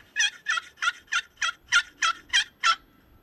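An out-of-tune wooden turkey box call scratched out in a series of nine evenly spaced, raspy yelps, close and clear against a quiet background.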